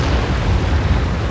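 An artillery shell blasts in the World of Tanks game, a dense, loud rumbling boom that fills the whole short moment with low-end roar.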